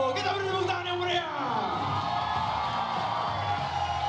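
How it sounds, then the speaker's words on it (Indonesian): A crowd at an MMA event cheers and whoops loudly for a fighter's introduction, over a ringing announcer's voice at the start, then a sustained roar fills the rest. "Kita beri tepuk tangan yang meriah."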